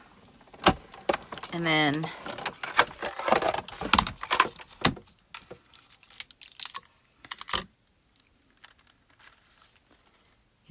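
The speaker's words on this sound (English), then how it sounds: "then we run that through our die cutting system" Paper and foil pass through a die cutting machine, making a series of sharp clicks and crinkling rattles at close range, with a person briefly talking early on.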